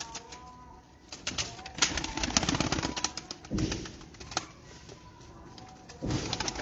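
Pigeons cooing close by in soft repeated low coos, with some shuffling and fluttering noise, no speech.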